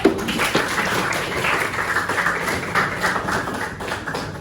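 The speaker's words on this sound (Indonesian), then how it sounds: "Tepuk tangan dong." Students clapping hands in a classroom after a stand-up, sit-down game, a dense steady patter of many hands at moderate loudness lasting several seconds with no talk over it.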